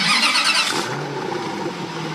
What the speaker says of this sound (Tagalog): Pag-start ni Muhammad ng makina, umuubo ito ng bahagya bago umandar